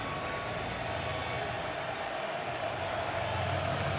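Steady stadium crowd roar from a college football game at Sun Devil Stadium, Texas Tech vs. Arizona State, a broad continuous wash of many voices with no distinct peaks, sustained throughout.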